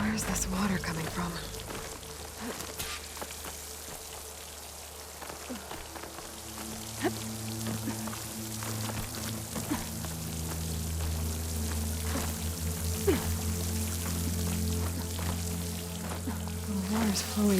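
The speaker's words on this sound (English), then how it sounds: "The water's flowing into the wall." In the video game Horizon Forbidden West, water pours and splashes steadily against a stone wall, a continuous rushing hiss that runs throughout beneath low, humming background tones.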